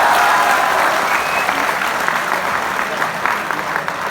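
An audience at a comedy laughter show claps loudly and continuously, a dense, close wall of applause that holds steady throughout.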